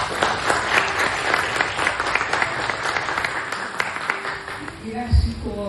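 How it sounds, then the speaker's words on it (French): Applause at an official launch ceremony for World Skin Health Day: a crowd claps in a thick, lively burst that carries on for several seconds, with voices rising near the end. "je vous demande de l'applaudir"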